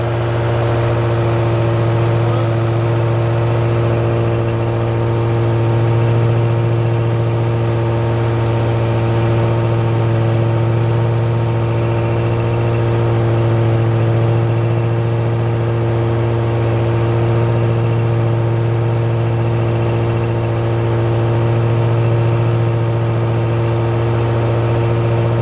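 A 2010 Amtex Inferno Eruption machine runs with its blower on, giving a loud, unbroken mechanical hum and drone that stays constant throughout with no talking.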